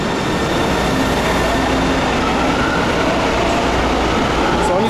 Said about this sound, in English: I think the train is going alongside the train station.